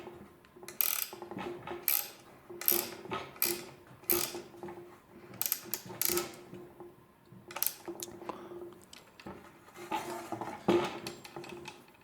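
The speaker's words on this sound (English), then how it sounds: "I'm just using a ratcheting wrench and holding the outside hook and tightening it" A ratcheting wrench tightens a nut on a PVC pipe bird feeder, giving short bursts of rapid clicking that start and stop in an uneven rhythm, close and fairly quiet, with brief pauses between strokes.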